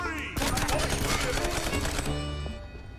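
Rapid video game gunfire bursts in a fast first-person shooter with wall running, loud and dense, with clattering shots stacked over each other, easing at the end as lighter ticks and tones carry on.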